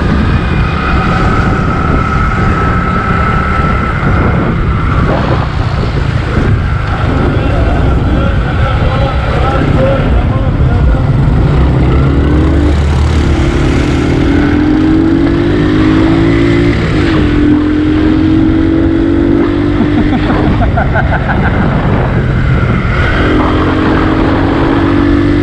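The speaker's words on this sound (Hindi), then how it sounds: "बहुत तेज़ गाड़ी मोटरसाइकिल चला रहा हूँ मैं।" A motorcycle ridden fast along a busy Karachi road, its engine roaring continuously and loud up close, with wind rush, passing traffic and rising and falling revs throughout, while someone talks over it.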